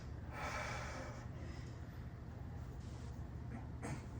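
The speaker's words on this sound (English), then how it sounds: "Breathe in. Breathe out." Deep breaths drawn in and let out slowly, close to the microphone, with a long rushing inhale early on and softer airy exhales following, over a low background hum.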